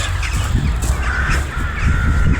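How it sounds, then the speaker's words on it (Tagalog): Several crows caw repeatedly in overlapping calls, fairly close, over a steady outdoor background rumble. "Mga uwak, yung mga uwak, dami uwak."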